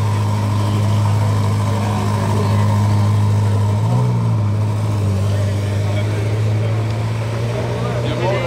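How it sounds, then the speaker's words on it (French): A cold car's combustion engine starts up and settles into a loud, steady idle at close range, a strong low drone running throughout with a slight wobble near the start, while someone talks over it. "ça démarre le moteur thermique"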